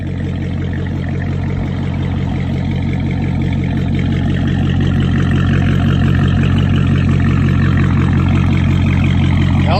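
A Dodge Challenger Hellcat Redeye with a supercharged HEMI V8 idles in eco mode, a loud, steady low rumble with a throbbing beat, holding even throughout with no talking.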